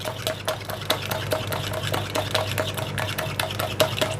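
Egg mixture for a custard tart is beaten briskly in a bowl, a fast, steady rhythm of whisk or fork clicks against the side, close and alone without talk.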